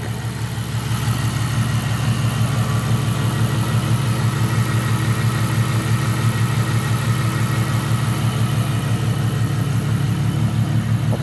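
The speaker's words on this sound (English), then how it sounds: "with the engine on, so you can hear how quiet it is" A 2012 Ferrari FF 6.3 V12 engine idles steadily with a smooth, low, even hum and a fine rhythmic pulse, close by and unbroken throughout, with no talking.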